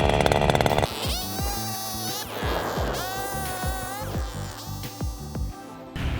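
A powerful ice auger's engine whines and revs loudly, its pitch rising and dropping as it bites repeatedly through the ice.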